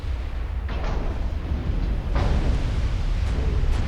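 Torpedo hits bursting against warships in a naval battle game: a couple of deep, rumbling explosions rising out of a constant low roar, fairly loud with no talk.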